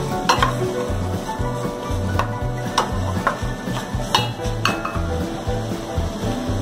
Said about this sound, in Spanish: Y lo mezclaremos todo muy bien hasta que se sofría la cebolla también.